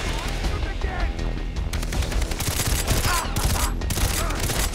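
Dense, continuous bursts of rapid gunfire and explosions from Far Cry 3, loud and relentless, with a voice shouting briefly underneath.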